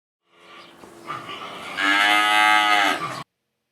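A cow moos once, a long rising low call that swells loud and ends abruptly, heard alone with no talk.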